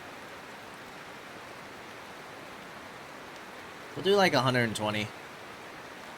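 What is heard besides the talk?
rain from the video game Mount & Blade 2 Bannerlord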